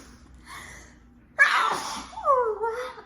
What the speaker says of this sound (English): I'm having some big sneezes.